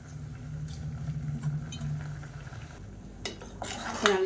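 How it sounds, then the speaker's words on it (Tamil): A utensil stirs soaked rice in a pot while a steady low hum runs underneath, with a few clinks and scrapes against the metal growing louder near the end. "இப்போ நல்லா கலந்து விட்டுறலாம்."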